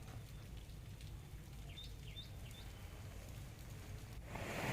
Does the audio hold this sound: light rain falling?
yes